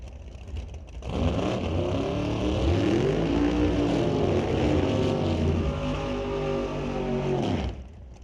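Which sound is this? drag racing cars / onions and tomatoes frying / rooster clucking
drag racing cars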